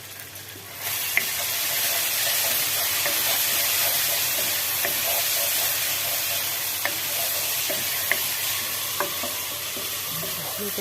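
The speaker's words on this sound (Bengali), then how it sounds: "এখন আমি মুরগির গোশতটা কষাই দেবো," Chicken pieces with a little potato sizzle steadily in a hot pan while being stirred and braised, a continuous hiss broken by occasional scraping and tapping of the utensil, with no talk.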